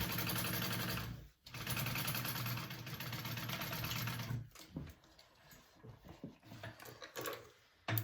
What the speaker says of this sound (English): So this is the bottom part of my bag I'm sewing together.